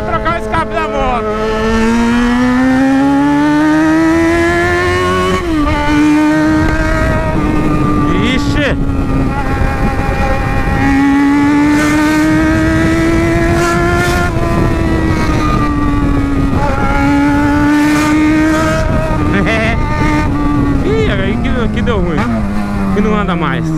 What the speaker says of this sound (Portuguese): Aí era pra trocar o escape da moto.